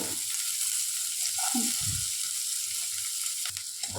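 Onions and cumin fry in hot oil in a pan, giving a dense, even sizzle close by. A couple of low thumps and scrapes from stirring come through, with no voices.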